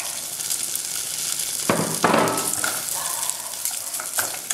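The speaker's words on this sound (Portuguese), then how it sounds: "E vamos fritar o nosso bacon." Bacon sizzles and spits in olive oil in a pan, a steady close hiss broken by a few louder pops and crackles as it fries.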